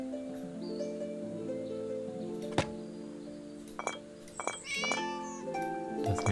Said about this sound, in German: Das ist eine Katze.